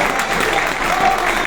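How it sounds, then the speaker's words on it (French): Crowd applause at an outdoor political rally in Paris, a dense steady wash of clapping from many people, loud and sustained throughout. "Applaudissez-les s'il vous plaît."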